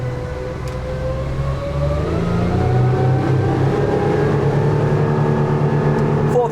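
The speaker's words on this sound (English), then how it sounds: "I might actually just get the boat up and moving" A Parker Monaco 110 boat engine drones steadily and rises in pitch as it speeds up, with a constant rumble and rushing water noise throughout.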